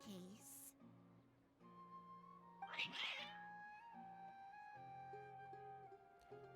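Cats meowing in a video game, several drawn-out meows and a sharper cry midway, set over soft sustained musical tones, fairly quiet overall.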